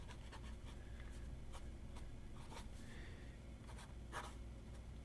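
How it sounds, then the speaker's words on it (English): A fountain pen with an ebonite feed scratching across paper, soft repeated strokes and light ticks, close and quiet over a steady low background hum. "that nib is making it write much thinner"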